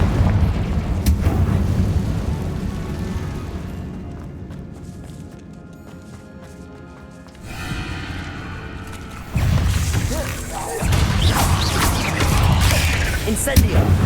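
Confringo blasting spells go off in Hogwarts Legacy, booming explosions and rumbling impacts amid game effects, with a quieter lull midway before loud bursts return.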